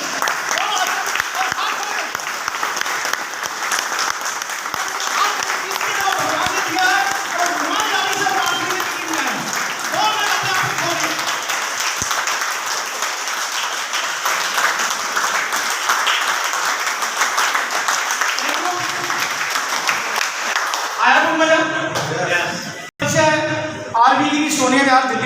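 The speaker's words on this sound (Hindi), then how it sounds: "यहाँ पे पहले तो आप लोग तालियां बजाइए कम से कम 2 मिनट" Sustained audience applause and clapping at a seminar fills the room continuously and loudly for over twenty seconds, fading out at the end as a voice begins speaking.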